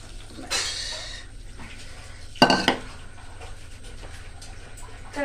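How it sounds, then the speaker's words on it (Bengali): A lid is set onto a pot of pointed gourd, potato and soybean curry: a brief splashing rush, then a sharp metallic clank and rattle, followed by quiet low simmering. "চলো ঢাকা দিয়ে দিই, সেদ্ধ হোক।"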